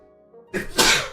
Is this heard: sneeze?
yes